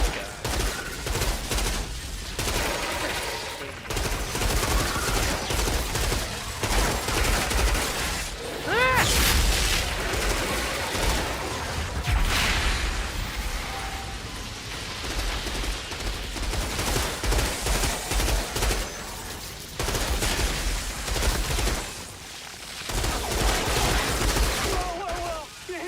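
Gunfire keeps coming for the whole stretch, with repeated bursts of rapid shots, booms and mechanical clatter over a busy game soundscape, and the shots fall in short clustered volleys with brief lulls between them.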